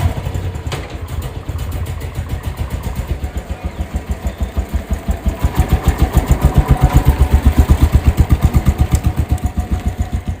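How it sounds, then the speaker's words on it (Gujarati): A Royal Enfield Classic 350 motorcycle engine runs close by with a deep, steady thumping beat that grows slightly louder and quicker partway through, alone without talk. "જો આજની બાઇક આપણી આ રહેશે, એનફિલ્ડ ક્લાસિક 350. ડુબ અવાજ સાથે."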